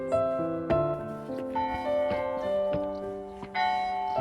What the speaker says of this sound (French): les cloches qui sonnent à toute volée